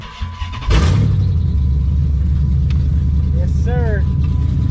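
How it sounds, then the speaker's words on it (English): Dodge Magnum started for the first time: a quick crank catches into a loud, close, steady idle that rumbles low, with a short voice and a brief chirp heard over it. "let's go ahead and fire her up"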